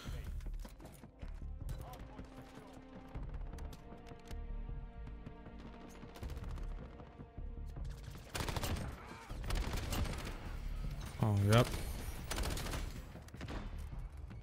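Carbine gunfire in the survival game Rust, rapid bursts of loud shots over continuous game noise, with a player talking over the action.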